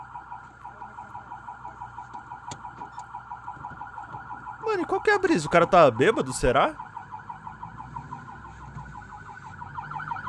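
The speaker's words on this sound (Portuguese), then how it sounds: "Agora ele desliga a sirene" Emergency vehicle siren wailing in traffic, a steady rapid warble running throughout and swelling louder with a rising-falling sweep midway before settling back, while someone talks over it.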